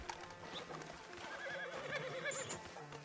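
A horse in a video game story mode whinnies in a short, rising neigh, mixed with hoof clip-clops and faint ambient game sounds, moderately quiet and close.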